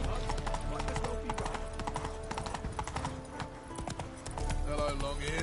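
Roach the horse gallops in The Witcher 3, hooves clip-clopping in a fast steady rhythm close by, layered over dense game music and ambience, with a brief whinny and some voices in the mix.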